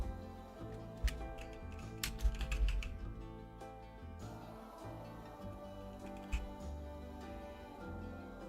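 Someone types at a computer keyboard while playing Planet Coaster in its scenario editor. Soft, irregular key clicks come in quick bursts, some taps louder and close, over a quiet bed of game music.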